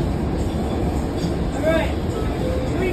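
A New York subway train in motion, a continuous low rumbling roar with a brief screech of wheels on rail, heard from inside under an automated announcement voice.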